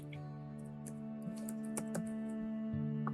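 Keys tapped on a computer keyboard while entering values into an app-building interface, a quick irregular run of soft clicks over a steady background hum, with no talking.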